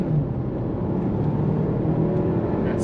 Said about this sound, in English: You can hear that turbo engaging.